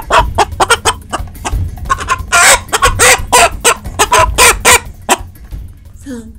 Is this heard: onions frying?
no